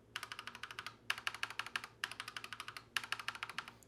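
Keys on a mechanical keyboard with linear switches are typed in rapid, even runs of clacks, four quick bursts separated by short pauses, close and crisp with no talking.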